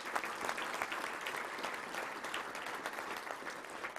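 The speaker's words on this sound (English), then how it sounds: "Let's give a round of applause to all of our great sponsors here today." Guests at a touchdown club luncheon applauding the sponsors, a steady, fairly distant spread of many hands clapping that holds evenly throughout.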